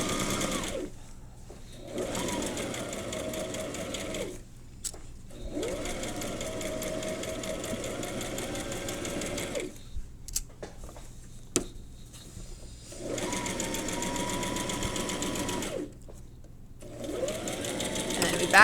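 Sewing machine stitching two fabric squares together, a steady fast mechanical whirring in several runs separated by short pauses, with quiet speech in the gaps.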